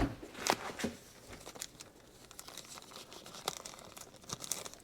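Small strip of tape torn and crinkled during assembly of a 1971 Suzuki TS185 piston and rings, with several quick, faint ripping bursts scattered among quiet handling sounds.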